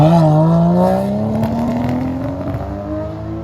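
A modified car launches hard, its engine revving up in a rising, loud roar close by that then settles into a rougher, fluctuating drone as it pulls away, with no talk over it.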